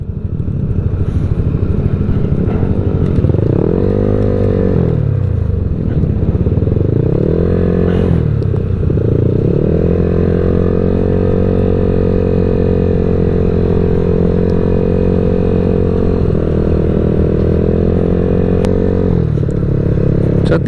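A motorcycle engine runs steadily throughout, its pitch rising and falling as the rider shifts and accelerates, loud and close with some rattling.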